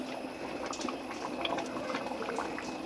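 Sambar bubbling as it boils in a pot, a steady soft stream of small pops and liquid bursts close by, with no voices.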